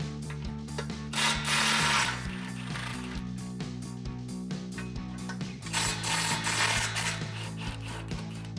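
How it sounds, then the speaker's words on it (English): A ratchet with a 16mm socket loosens exhaust bolts on a RAM 1500 with a Flowmaster Signature Series dual exhaust, giving rapid close mechanical clicking in steady runs broken by brief louder bursts of turning. "grab your 16mm socket and disconnect these two bolts"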